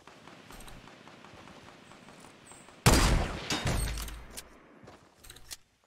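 A gunshot in the video game Fortnite: a sudden loud blast that cuts through quiet in-game ambience, followed by a few more scattered shots and a rumbling tail that fades.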